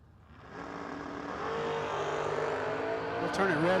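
Drag race cars, one of them a Camaro, rumble and rev continuously at a drag strip, growing louder and steadier, with a race announcer talking over the engines.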